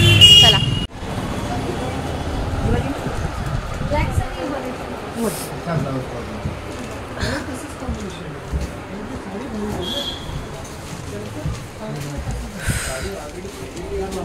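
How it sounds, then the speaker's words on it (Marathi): Street traffic from cars and other vehicles hums steadily in the background under continuous talking, with a faint horn toot or two rising above the low road rumble. "मागे गाड्यांचा आवाज येत असेल तुम्हाला।"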